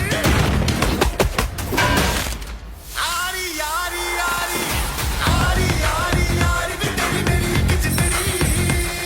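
Gunfire and explosions from an action movie trailer crackle in rapid bursts. Heavy booms and dramatic music mix in, with a brief lull in the middle.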